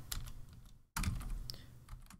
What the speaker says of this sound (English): I'm typing so quickly, so wrong